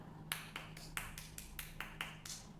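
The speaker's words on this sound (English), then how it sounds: "Clap fast. More fast." Quick hand claps from children at a seminar patter in a fast, fairly even run of about nine sharp smacks over a couple of seconds, moderately loud, with no speech.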